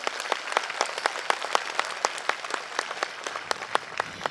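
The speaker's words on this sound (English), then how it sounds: "Big round of applause." A modest audience at a Gympie community unity event applauds, with individual hand claps standing out clearly in an uneven rhythm over a softer background of clapping, moderately quiet.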